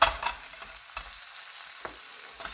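Chopped onion sizzles in a hot pan alongside broccoli for a vegetarian Italian risotto, with a burst of stirring at the start and then a quieter, steady frying crackle punctuated by a few scrapes of the spoon.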